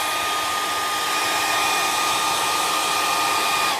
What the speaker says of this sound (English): you can use a hair dryer and just hold it right above like this